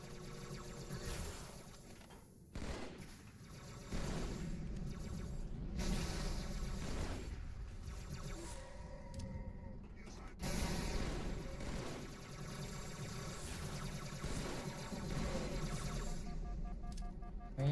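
Enemy gunfire in the video game Halo 2 on Legendary difficulty, heard as dense, repeated bursts of shots that crackle steadily throughout with brief lulls, loud and close.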